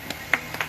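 A few separate claps from an audience at a political speech, four sharp hand strikes in under a second, close and fairly loud with no voices over them.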